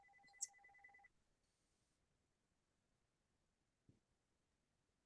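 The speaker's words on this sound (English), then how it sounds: "my house phone never rings, and of course, it's gonna ring constantly that I'm sitting next to it" A house telephone gives two short ring bursts in an otherwise quiet room, clear and fairly near, followed by long silence and a faint thump near the end.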